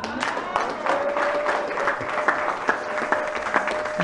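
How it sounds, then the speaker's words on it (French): A church congregation applauds at a sermon, producing dense sustained clapping from many hands throughout, with a faint held tone sounding underneath. "Nous acclamons la parole de Dieu"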